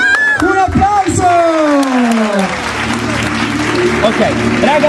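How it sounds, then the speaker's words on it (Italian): Children and adults at a birthday party by a big pool clapping together after a countdown, bright applause with cheers under loud, animated voices and shouts that dominate the start. "Un applauso!"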